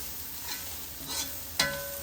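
Turmeric is fried into a prawn biryani curry base, giving a soft, steady sizzle followed by two sharp clinks of a spoon against the pan near the end.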